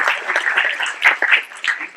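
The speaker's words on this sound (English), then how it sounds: "let's give them a round of applause" Brief applause from a school audience at a talk on gun violence, a dense patter of clapping that rises and dips over two seconds, with faint voices mixed in.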